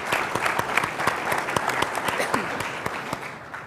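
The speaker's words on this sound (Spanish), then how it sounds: "Así es que un aplauso también para él por acompañarnos." Audience applause at a panel discussion on science policy in Chile, a dense patter of clapping with a few sharper claps standing out, steady and moderately close.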